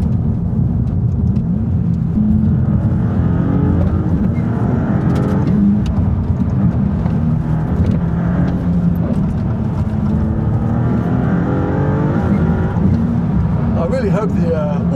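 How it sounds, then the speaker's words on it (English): A sports car engine and exhaust rumble steadily and loudly throughout, with low revving surges, while people talk at times in the background. "Just let me enjoy the sound of the engine and the exhaust."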